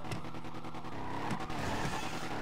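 A car in a GTA game rumbles off-road with a steady engine drone, a few sharp knocks and crunches from rough ground breaking through, no speech.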